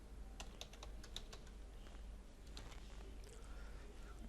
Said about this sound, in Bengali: ট্যাব কি প্রেস করলাম।